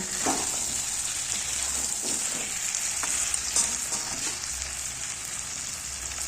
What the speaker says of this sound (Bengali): একটু নাড়াচাড়া করে নেব, তারপরে জলটা দিয়ে দেবো।